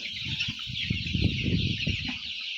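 One-month-old chickens on a poultry farm, many birds clucking and chirping close by in a dense, continuous chorus.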